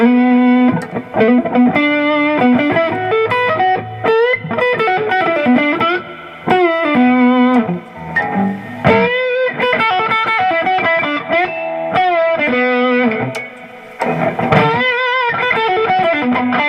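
An electric guitar with Firefly Firebird pickups plays heavily distorted riffs and chords, loud and continuous with brief pauses between phrases, alone without talk.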